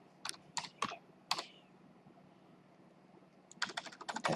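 Keys clatter on a computer keyboard as a username and password are entered: a few separate taps, a pause, then a quicker run of close keystrokes in a quiet room.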